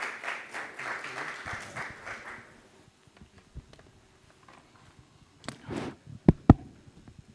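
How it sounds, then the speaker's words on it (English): Conference audience applause in Dubai swells briefly at the start, then fades into a quiet room with a few scattered claps and thuds. "A round of applause, everyone, please."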